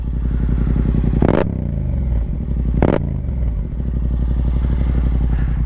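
A Yamaha FZ-07 motorcycle engine runs steadily up close with a deep, throbbing drone, broken by two brief clattering bursts.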